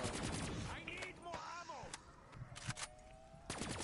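Gunfire from an upgraded, double-upgraded gun in a zombies video game, sharp repeated shots in quick bursts over cluttered game noise, with talk mixed in.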